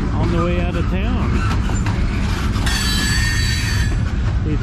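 A long freight train rolls out of a rail yard, its wheels squealing in high sustained tones over a steady, loud rumble of moving cars, with a brief voice in the mix.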